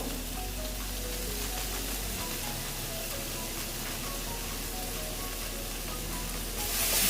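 Chopped tomato with Kashmiri red chilli powder fries in a pan, a dense, steady crackling sizzle held close and even throughout, swelling slightly louder at the very end.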